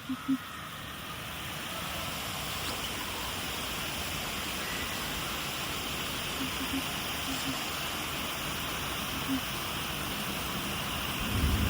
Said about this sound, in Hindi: और बड़ी ही अच्छी यहाँ पर बारिश हो रही है